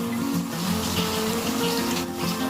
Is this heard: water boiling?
yes